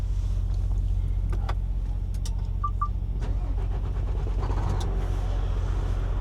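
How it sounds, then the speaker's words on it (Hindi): A truck's engine cranks and catches, then settles into a steady low idle that rumbles close and even underneath a few faint clicks and clunks. "ट्रक स्टार्ट कर लेते हैं।"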